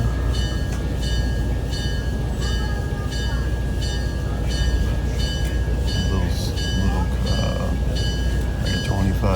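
A museum train at the Tennessee Valley Railroad Museum rumbles steadily along the rails, a continuous dense rolling noise with rhythmic clicks and faint whines throughout, close and unbroken.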